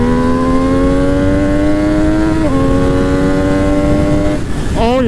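Loud engine note from an MV Agusta 800 Dragster RR motorcycle in race mode, pulling hard in second gear with a steadily rising pitch, a brief dip mid-pull and a shift near the end, under heavy wind rush.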